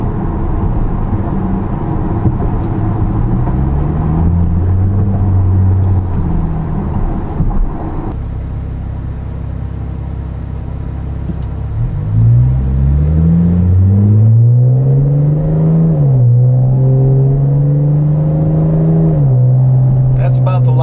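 Chevrolet Camaro V6 with an MRT axle-back exhaust accelerating to about 4,000 RPM, a loud steady engine drone that rises in pitch over several seconds, dips briefly, then holds a high, sustained tone while cruising.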